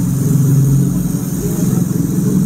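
Custom motorcycle engine with packed stainless steel exhaust runs steadily nearby, a continuous low throbbing idle with slight fluctuations, loud and close.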